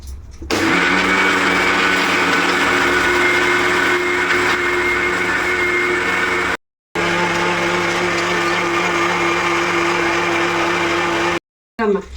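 A kitchen mixer grinder runs at a loud, steady high-pitched whine while grinding coconut chutney with chana dal and salt, briefly stopping twice before starting again.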